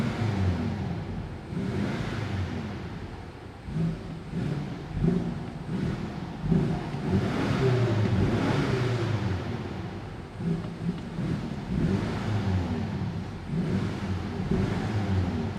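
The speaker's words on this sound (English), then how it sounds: "The exhaust is on. So let's go ahead and rev it a bit for you." A 2023 BMW X6 M Competition engine with sport exhaust revs and roars in repeated surges, a loud sustained exhaust rumble with brief dips between pushes of the throttle.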